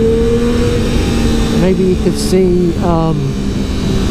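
A Triumph Daytona 675R motorcycle engine revs steadily while being ridden, a constant loud drone with rising and falling pitch as the throttle changes, under someone talking briefly.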